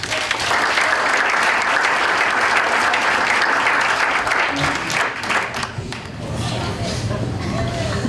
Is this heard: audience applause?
yes